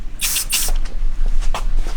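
Rattle can spray paint hissing onto SSR Type F car wheels in two close, loud bursts near the start, followed by a few shorter, fainter puffs of spray.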